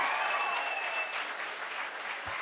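An audience at a concert claps along in a steady, dense wash of applause that holds at an even level for the short stretch.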